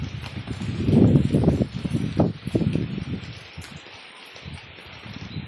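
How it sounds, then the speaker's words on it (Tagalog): Gusts of typhoon wind sweep over a rice field in the Philippines, rustling the flattened plants in uneven bursts that swell and fade at close range. "Pabugso-bugso yung hangin"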